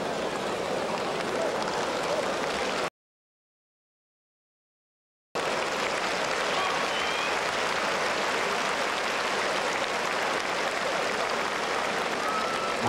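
A large crowd at the 2006 All Japan Judo Championships applauds as a competitor enters the contest area. The dense clapping holds steady, breaks off briefly, then resumes at the same level.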